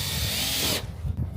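A power drill drives a stainless steel self-tapping screw into a rub rail on a 45-year-old Boston Whaler boat, a close, bright whirring burst that cuts off abruptly, leaving faint room noise.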